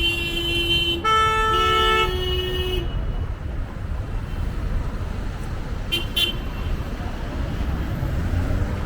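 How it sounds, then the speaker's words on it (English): Busy street traffic in Lima, Peru, with a steady rumble of engines and several car horns honking in the first few seconds, then continuing road noise with brief higher toots later on. "And the traffic here, as I've said, is insane."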